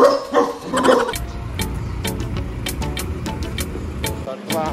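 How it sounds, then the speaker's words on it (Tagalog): A dog barks repeatedly in short sharp yips against a noisy outdoor background, with some vocal sounds at the start. "Ang aso."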